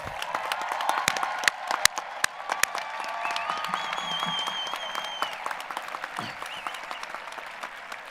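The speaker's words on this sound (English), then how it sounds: "Let's give them a round of applause." A high school graduation crowd applauds former students, a steady wash of many hands clapping at moderate loudness, with a few sharper nearby claps and faint whistles or cheers within it.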